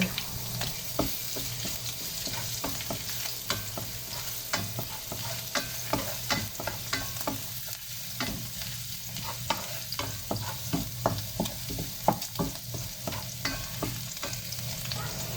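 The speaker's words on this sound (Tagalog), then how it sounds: "gigisa na natin guys ang bawang" Garlic sautés in a pan close by with a steady, loud sizzle. Frequent rhythmic scraping and clacking of a utensil stirring against the pan runs through it, and no voices are heard.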